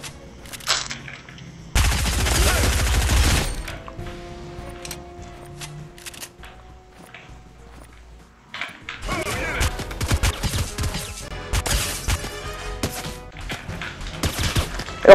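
Automatic gunfire sounds in the Fortnite Battle Royale video game: a loud sustained burst early on, then a quieter stretch, then a longer run of rapid shots with game noise.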